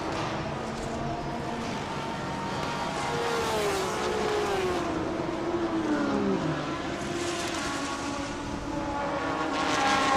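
Lamborghini and Porsche race cars battle on track during a Thailand Super Series round, their engines roaring loud and continuous over about ten seconds, with rising and falling pitch as they accelerate and pass.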